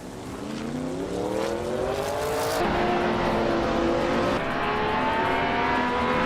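A vintage 1966 McLaren M1B race car engine revs up in a steady climbing whine, shifts, and then pulls hard again, loud and sustained, with a layered harmonic drone and no voices.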